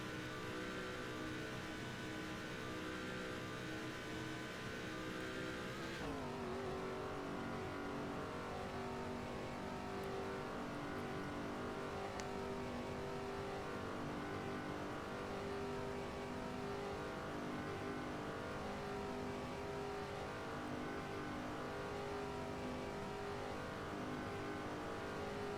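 Race car engines from the PS2 game NASCAR 07 drone loudly and continuously, a sustained high engine whine with a sharp gear shift and pitch drop around six seconds, then steady revving as the field runs, with no talking.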